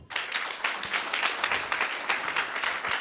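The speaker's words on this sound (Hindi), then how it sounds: "जोरदार ताली बजता है" An audience at a seminar event claps for a speaker, a dense steady round of applause with many hands, fairly close and continuous.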